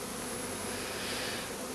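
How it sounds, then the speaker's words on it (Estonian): Honey bees crowd hive frames and make a dense, unbroken buzzing roar that is loud and close throughout, with no voices. "need raamid olid üsna mesilisi täis ka"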